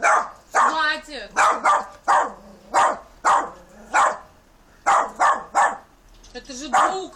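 A dog barks repeatedly in sharp, close bursts, some yelping and whimpering in between, while people talk to it throughout.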